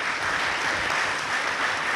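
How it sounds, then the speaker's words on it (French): An audience applauds radio trainees at a ceremony in Benin with a brief burst of steady, fairly loud clapping from a gathered crowd and no voices over it. "Je voudrais que vous puissiez les remercier en les applaudissant"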